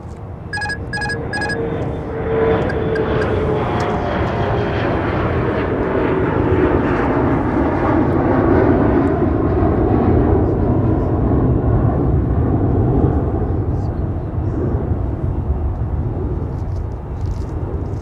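A UPS Boeing 747 heavy freighter arriving at MSP airport from Louisville, its loud, steady jet roar filling the scene close by, with a brief burst of beeping tones near the start.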